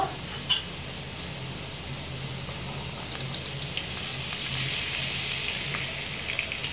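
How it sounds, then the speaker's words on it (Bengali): Sliced onions fry into crisp beresta in oil in a kadai for a village-style jackfruit biryani, a steady close sizzle that builds slightly louder toward the end, with a couple of faint clinks. "অন্য কড়াতে বেরেস্তাগুলো ভালো করে ভেজে নেব"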